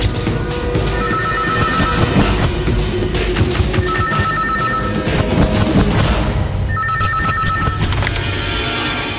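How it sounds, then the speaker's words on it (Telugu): A telephone rings in repeated electronic bursts over a loud, busy backdrop of thumps and music-like rumble, with no speech. "సార్ మా ధైర్యం నుండి ఫోన్ వచ్చింది."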